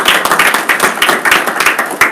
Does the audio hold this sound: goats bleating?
no